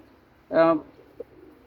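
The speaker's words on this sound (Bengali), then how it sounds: "এটা সিলভার কবুতর" A silver pigeon gives a single short, close, throaty coo, followed by quiet.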